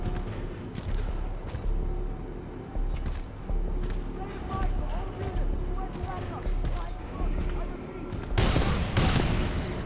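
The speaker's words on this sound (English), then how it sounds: "Just casually using an anti-tank gun" Heavy weapon fire in Titanfall 2 from an anti-tank gun turned on human soldiers: repeated loud, sharp blasts over a constant rumble of combat, with a dense burst of explosions near the end.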